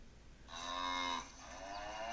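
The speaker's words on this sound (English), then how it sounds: "take that cow sound" A cow moos in one long, drawn-out call that swells loudly, then eases into a softer, sustained tail, heard clearly on its own as a farm-animal sound effect.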